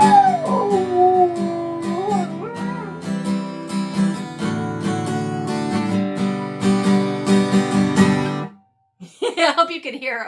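A dog howls along with strummed acoustic guitar, its wavering, sliding cries rising and falling over the chords for most of the stretch, close and clear, before the music stops abruptly and a brief voice follows.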